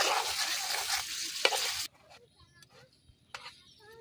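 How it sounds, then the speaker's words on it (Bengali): Beef kala bhuna spices being stirred over a clay stove, a loud sizzle with spoon scrapes that cuts off abruptly partway, leaving faint clinks and scattered knocks. "এখন আবার একটু ভালো করে নাইরা চাইরা কিছুক্ষণ রান্না করাম"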